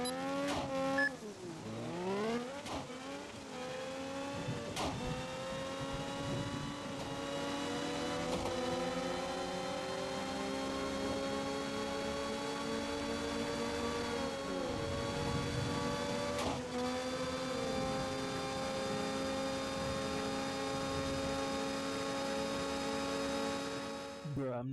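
GT3 race cars in the Racing Xperience video game: a continuous high-pitched engine whine rising and falling through gear shifts, with occasional sharp shift cracks, loud and steady throughout, no talking.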